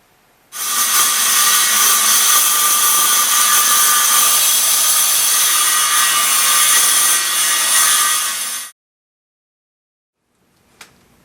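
Power saw cutting through wood for a homemade hovercraft deck, a loud continuous whining cut lasting about eight seconds, then it stops, leaving near silence with a faint click at the end.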